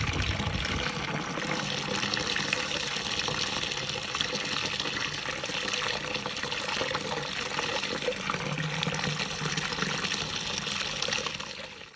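Cold water is poured quickly into homebrew extract-method lager wort, giving a steady, close splashing rush of liquid that holds level for about twelve seconds before cutting off.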